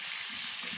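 Chicken karahi sizzles and fries in a pan over the stove, a steady close hiss of hot oil for under a second with no voices.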